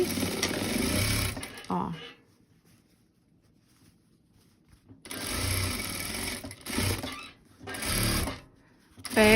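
Sewing machine stitching the crotch seam of a fabric doll, several loud bursts of fast, steady stitching separated by quiet pauses, with a voice heard briefly.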